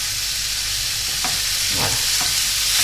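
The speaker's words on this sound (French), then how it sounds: "Et on va faire revenir le bœuf." Beef sizzles steadily in a hot pan over high heat while a utensil stirs it, giving a few short scraping strokes over the constant close frying hiss.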